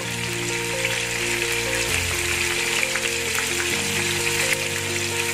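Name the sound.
chicken frying in oil a second time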